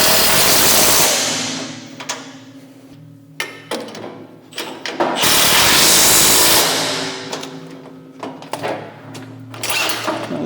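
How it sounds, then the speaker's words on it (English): Bursts of a cordless impact wrench hammering bolts tight on a snowblower's rubber cutting edge, loud whirring runs separated by pauses and clunks. "inch socket and your impact and start tightening those up"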